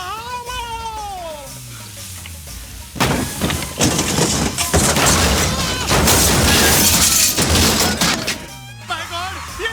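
A film effect of a hut crashing down onto a car: a long, loud burst of crunching, clattering wreckage lasting several seconds, with a voice shouting just before and after.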